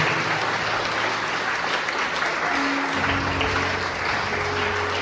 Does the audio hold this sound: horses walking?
no